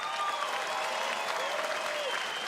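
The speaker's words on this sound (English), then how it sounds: "Give the boys a round of applause, please." Boxing arena crowd applauding the fighters after a ten-round bout between Tim Tszyu and Joel Camilleri, a dense, steady wash of clapping with faint voices mixed in.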